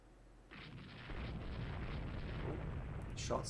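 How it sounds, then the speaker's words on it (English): Naval guns boom in a Rule The Waves 3 fleet battle against an injured destroyer and invasion craft, a continuous low rumbling barrage with a sharper burst near the end. "Shots fired."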